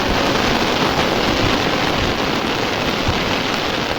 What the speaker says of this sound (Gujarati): વરસાદ ભૂકા જ કાઢી નાખે છે